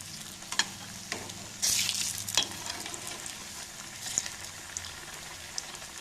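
Urad dal bonda fry in coconut oil with a steady, close sizzle broken by louder crackling bursts and stirring clatter. No one speaks.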